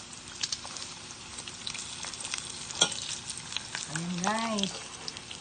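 Pork chicharon fries in hot oil, a steady crackling sizzle with scattered pops close by, while a voice speaks briefly near the end.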